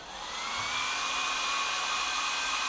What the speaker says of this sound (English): Yep, pump is running.